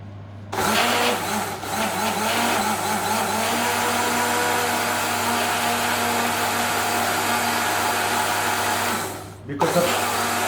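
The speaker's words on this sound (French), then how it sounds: "Dani, on met l'huile d'olive, basilic et ail. Et parce qu'en fait, c'est plus facile à mixer" Close and loud, a blender whirs continuously as it mixes olive oil, basil and garlic, starting abruptly and running steadily before briefly dipping and surging near the end.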